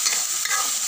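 Whole spices sizzle in hot oil for a tadka made for a bottle gourd curry, a brief, bright crackling hiss heard up close with no voices.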